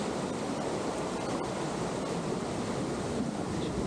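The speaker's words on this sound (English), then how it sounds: "Here's the top of the creek as it feeds Mooney Falls." Creek water rushing at the lip of Mooney Falls in Havasupai canyon, a steady, dense broadband roar with no breaks, close and continuous throughout.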